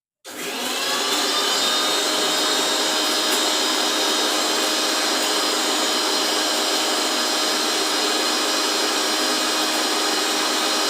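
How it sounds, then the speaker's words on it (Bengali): An electric grinder whirs loudly and steadily as it grinds a roasted spice mix for mutton curry, starting abruptly and holding an even high-pitched roar throughout, close and alone. "এর মধ্যে ওই যে মশলাটা ভেজে রেখেছিলাম সেটা আমি একটু গুঁড়ো করে নিচ্ছি।"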